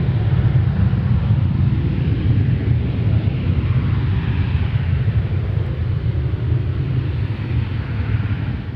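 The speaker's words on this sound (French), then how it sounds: "elle engendre un vrombissement audible à des centaines de mètres à la ronde et qui, selon les moments, peut faire penser au bruit causé par le passage d'un avion." An industrial flare stack gives off a continuous, heavy, low roar, steady and unbroken like a passing airplane, with no voices.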